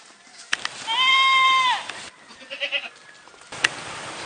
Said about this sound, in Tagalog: Agad na nagpastol ng mga kambing si Jolito